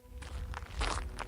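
Footsteps on a deserted village road at night, a handful of soft, evenly spaced steps, faint and close with a quiet low rumble beneath, no voices.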